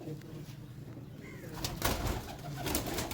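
Low cooing from pigeons kept in a loft in Dina carries on throughout, with a few sharper bursts like wing flaps or scuffling toward the end.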